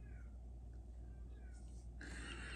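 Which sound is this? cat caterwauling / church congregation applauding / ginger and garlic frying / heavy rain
cat caterwauling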